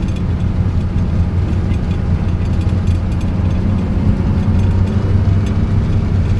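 Steady low engine drone of a high-mileage Porsche 911SC with manual transmission while driving on the road, continuous and fairly loud with road rumble, no voices.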